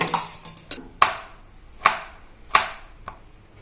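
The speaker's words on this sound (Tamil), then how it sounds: "சேர்த்துட்டு புடலங்காவை கட் பண்ணிக்கலாங்க." Knife chopping snake gourd on a cutting board: four or five sharp, evenly spaced thuds close by, with quiet pauses between them and no speech.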